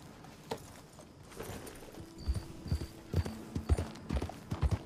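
Horse hooves clip-clopping in Red Dead Redemption II, starting faint and then settling into a clear, close rhythmic trot of sharp hoof strikes with a soft tonal hum between them.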